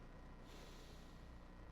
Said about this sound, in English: I'm going to ask you to take a big sniff